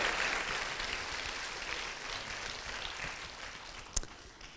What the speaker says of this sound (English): Give them a warm applause.